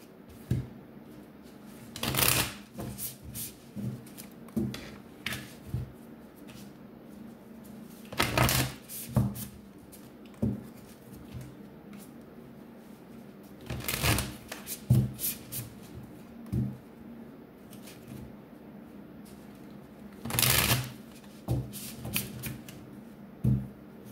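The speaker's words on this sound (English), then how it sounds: "I'm going to pull a few oracle cards." A deck of tarot and oracle cards is shuffled in four separate bursts of crisp riffling and flapping, each lasting about a second, with quiet handling between them and no talking.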